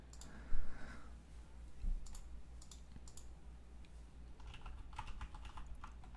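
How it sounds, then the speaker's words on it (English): Fingers tapping on a computer keyboard during a live ASMR stream, quick irregular bursts of soft clicks, faint and close, with a couple of louder thumps early on. "Do you want to type your name in?"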